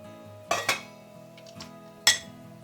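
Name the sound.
large cooking pot placed on the stove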